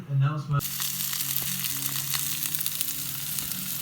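Czech sausages frying in a pan, a steady close sizzle with faint pops, following a brief burst of voice at the very start.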